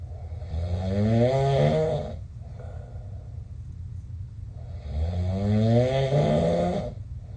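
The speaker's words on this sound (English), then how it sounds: "I basically snored the entire night." A sleeping person snores loudly and close by, two long rasping inhalations separated by a quiet pause, with no talking.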